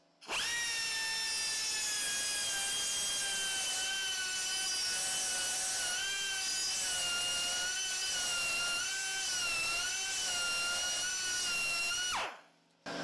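A handheld rotary grinder fitted with a burr cuts into clamped metal, giving a loud, steady, high-pitched whine that holds for about twelve seconds with slight pitch wobbles under load, then stops abruptly.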